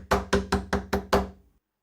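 Six sharp, evenly spaced knocks rap on a door, loud and close, then stop into silence.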